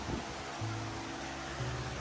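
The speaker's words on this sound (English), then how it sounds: "Sorry about the fan." A steady, low electric fan hum runs throughout with broadband airy noise, no voices.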